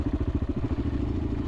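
Close and steady, a borrowed motorcycle engine thrums through a Moroccan off-road rally stage, its low beat rising slightly as the ride continues, with no speech.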